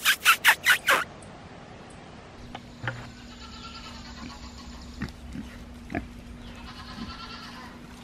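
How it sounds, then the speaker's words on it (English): Pigs on a farm run about in the morning, with a burst of loud rhythmic grunts and squeals up front, then scattered snorts, oinks and bleating-like calls over a steady hum. "The morning running of the pigs"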